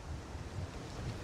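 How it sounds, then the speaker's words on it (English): Chilly, gusty wind blows steadily outdoors, a continuous low rumbling roar of wind buffeting the microphone with no voices. "I know it's windy and chilly here today"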